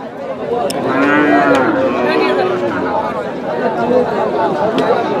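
Cattle mooing at a busy livestock market, with several drawn-out low moos rising and falling close by over a steady murmur of crowd chatter.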